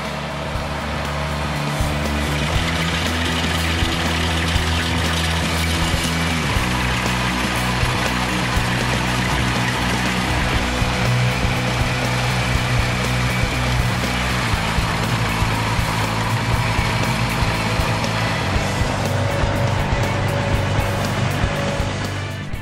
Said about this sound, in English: The Ventrac Power Rake will be able to go through here and renovate these areas